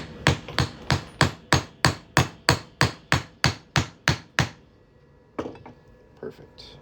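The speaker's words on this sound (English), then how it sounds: "We're just gonna hammer that on through." A steady run of about fourteen sharp metal hammer strikes on a fine silver coin being made into a ring, evenly paced and close, then a pause and a few softer knocks.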